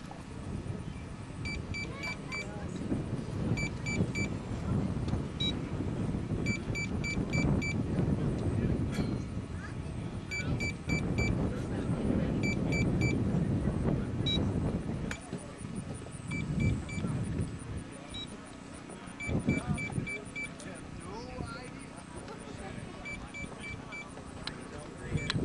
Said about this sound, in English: See if I can get the beeping of the altimeter in here on the mic.